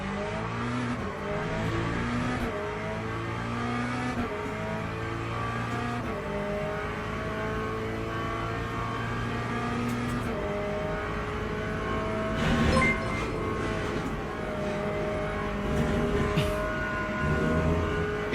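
A Lamborghini race car engine in the Le Mans Ultimate sim drones and shifts through gears, steady mechanical whine rising and falling at moderate volume, with no talking.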